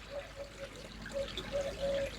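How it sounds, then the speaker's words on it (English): Dirty koi pond water trickling through a net into a collection basket, a soft, faint, steady flow with small intermittent gurgles. "the dirty water comes in here via this net, which hooks over here"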